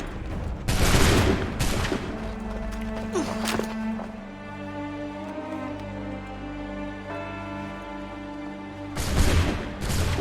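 A volley of musket gunfire in Assassin's Creed III rings out as a loud burst of crackling shots, then fades into a sustained game score, with a second ragged volley near the end.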